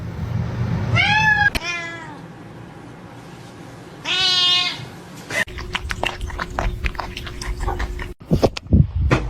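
A little kitten indoors lets out two clear, rising meows a few seconds apart, close and loud, followed by scattered clicks and handling noises.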